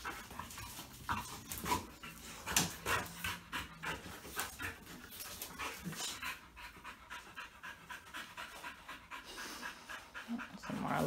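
A Pit Bull or Dogo Argentino female pants rapidly and rhythmically up close for several seconds, soft breathy huffs with occasional faint whimpers and a little quiet speech.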